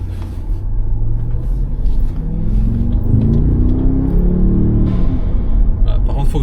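A 2025 Brabus G800 engine in Sport Plus mode revs with its exhaust valves open: a loud, deep, continuous rumble whose pitch climbs steadily toward about 4500 rpm, heard from close inside.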